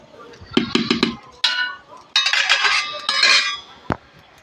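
Metal pot clatters and scrapes close by as cooked rice is taken off the stove, a run of sharp clanks and rattles in bursts, ending with one hard knock.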